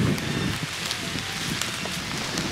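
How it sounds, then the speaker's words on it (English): Steady rain falling outdoors in a Wisconsin spring woods during a turkey hunt, a constant close hiss with scattered small drop ticks and light wind noise, no voices. "Well, it's starting to rain"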